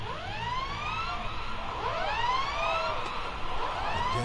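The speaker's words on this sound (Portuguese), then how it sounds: "Anna foi recebida pelo grito das sirenes." Several sirens wail at once in a video game, overlapping rising and falling tones sweeping continuously, loud and steady over a low background rumble.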